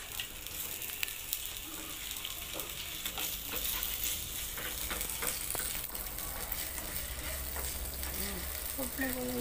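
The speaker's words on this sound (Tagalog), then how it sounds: "Gisa na natin ang ating mga toppings. Unahin natin yung luya." Ginger sautéing in a pan while preparing tilapia, giving a continuous dense sizzle with scattered small clicks and utensil taps throughout, fairly close and steady.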